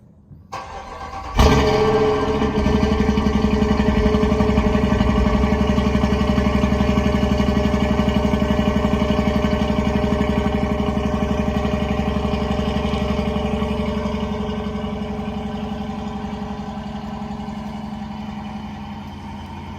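A 2020 Dodge Durango R/T with a stock exhaust starts with a sharp crank, then settles into a steady, deep idle. The low rumble stays close and even, then eases slightly in loudness toward the end.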